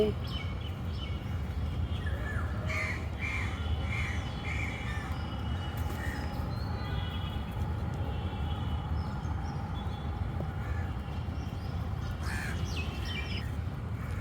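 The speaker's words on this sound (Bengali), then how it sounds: "কাকরে খাবার দিছে ওই খাবার খেতে গেছে" Crows being fed squawk and caw in short repeated bursts at moderate distance, over a steady low background rumble, with occasional human voices nearby.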